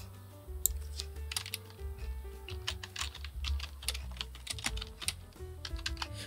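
Quick bursts of close, crisp key clicks as a new folder name is typed on a computer keyboard, uneven in rhythm, with no one speaking.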